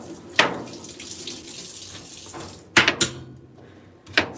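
Tap water runs into a kitchen sink in short bursts while cut pumpkin pieces are rinsed, with splashes, a few sharp clatters of handling, and quieter gaps between.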